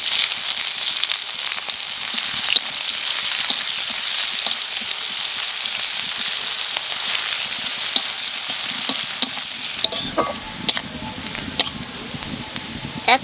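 Onions and black cumin fry in a pan with a continuous loud sizzle, the crackling growing busier with stirring scrapes and clatter toward the end.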